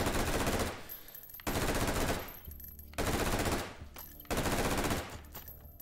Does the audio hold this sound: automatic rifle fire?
yes